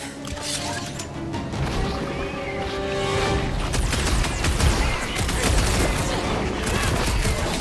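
Guns fire in the Marvel's Guardians of the Galaxy video game, a dense continuous barrage of loud blasts and crashing impacts layered over busy combat noise.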